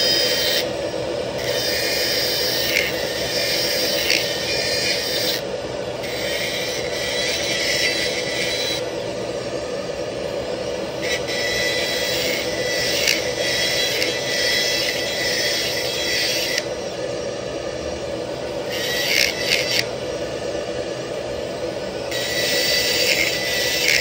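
A high-pitched whining grind is heard as a ceramic dental implant restoration for a full-mouth case is shaped, steady and close, with the bright rasping rising and dropping as the tool touches and leaves the ceramic, and no talk.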